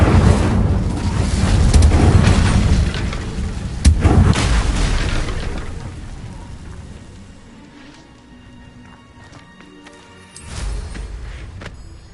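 In Hogwarts Legacy, an Incendio fire spell erupts with a loud whooshing burst and booming impacts that fade over several seconds before another swelling burst near the end.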